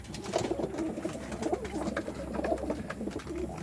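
Pigeons coo repeatedly close by, soft throaty calls in an uneven rhythm over a low background hum.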